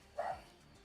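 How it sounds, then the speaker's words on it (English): One short, fairly faint bark from a pet dog somewhere in the house, a single quick yap followed by quiet room tone. "Oh, that's my dog losing his mind."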